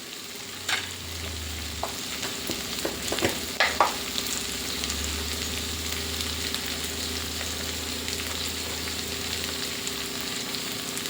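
Broad beans and tomato curry sizzle steadily in oil in a pan, a continuous frying hiss broken by a few scraping stirs early on, with no talking.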